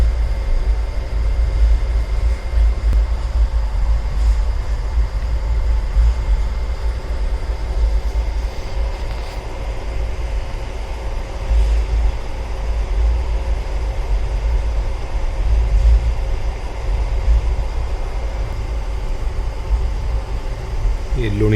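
Steady, loud low rumble of a train in motion, heard from inside an empty coach cabin near Luni Junction in Rajasthan, with a constant drone and faint rattles throughout and a voice speaking over it at times.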